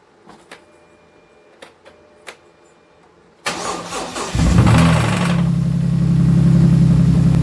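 A 2007 Dodge Nitro engine cranks briefly after a few faint clicks, then catches and fires up, settling into a loud, steady idle close by.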